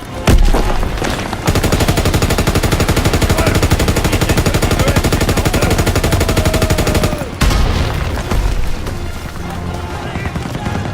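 Dense, sustained machine-gun fire and explosions from a Call of Duty WWII battle in Operation Cobra, a long loud barrage with a heavy boom near the end, under shouted commands from soldiers.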